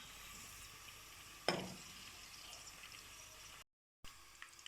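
A sudden sizzle as whole spices drop into hot oil, then a steady soft frying hiss that briefly cuts out and resumes.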